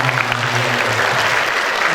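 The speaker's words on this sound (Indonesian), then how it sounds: "Tepuk tangan kita semua." An audience claps steadily at a junior high school farewell and arts performance, a dense, even wash of hands lasting the whole stretch, with a faint voice underneath.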